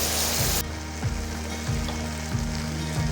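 Broken wheat and moong dal fry in a hot pan, giving a steady close sizzle broken by regular scraping stirs about every half second.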